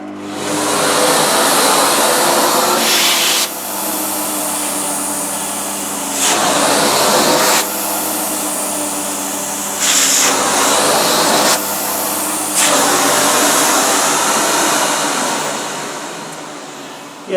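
A new Bosch Perfecta 85 cylinder vacuum cleaner runs on curtains with a loud, steady whooshing roar, its pitch and suction rising and dipping repeatedly as the nozzle is pressed on and lifted away.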